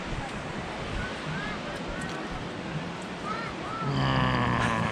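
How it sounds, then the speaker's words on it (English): Minor ocean waves wash onto the shore at Marshfield, Massachusetts, a steady broadband surf rush with wind noise, swelling slightly louder near the end. "Waves are minor right now, so we're waiting for the tide to come back in."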